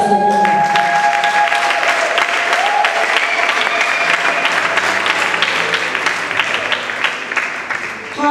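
Church congregation applauding to acclaim the Lord, a sustained, loud wash of clapping hands that keeps going for several seconds, with cheering voices and some singing or shouting mixed in.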